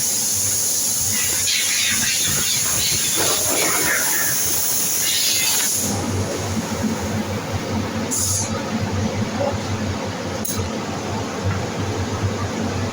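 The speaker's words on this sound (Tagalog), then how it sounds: "Yan o, spray gun namin." A steady loud hiss of a spray gun spraying stain and sealer onto wall cladding, continuous and close, with a few sharp higher bursts later on.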